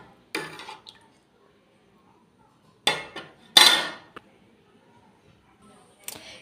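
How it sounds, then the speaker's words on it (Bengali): A metal lid clanks onto a cooking pot over a gas stove flame, giving several sharp, close metallic knocks and rattles separated by quiet gaps. "এইটা ঢাকা দিয়ে দিয়েছি"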